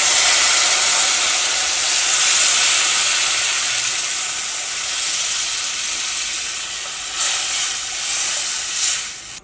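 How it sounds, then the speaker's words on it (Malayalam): Tamarind water added to a fish curry simmering in a clay pot, a loud, continuous hissing sizzle with rising steam and slight stirring bursts near the end, heard alone without voices. "ഞാൻ അടുത്തതിലേക്ക് നമ്മുടെ പുളിവെള്ളം ചേർക്കാണ്"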